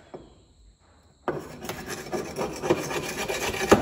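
After a quiet moment, a tile-breaking scraper grinds and rasps repeatedly against a hard surface, loud, close and steady for several seconds.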